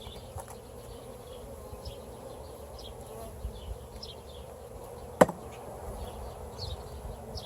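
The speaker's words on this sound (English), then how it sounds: "Bees seem to be tolerating me today" Honeybees buzz steadily around an open hive during a summer inspection, a soft continuous drone with occasional closer passes and one sharp click partway through.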